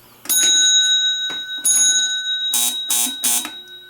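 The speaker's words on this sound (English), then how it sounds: "I like the buzzer actually more than the bell." An electric elevator alarm buzzer sounds in short bursts, two brief ones then three quick blasts, loud and close, with ringing between them.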